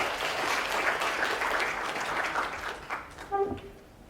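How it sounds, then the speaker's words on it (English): A blockchain conference audience applauds its panelists: a thick wash of clapping for about three seconds that thins and breaks into a few scattered claps before fading. "can we give a round of applause to the panelists?"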